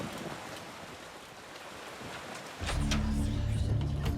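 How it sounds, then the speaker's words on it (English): Rain hisses steadily in the video game Eternal Darkness, and after a few seconds a louder, low tonal hum or voice enters over it. "I'm enjoying the rain sound effect."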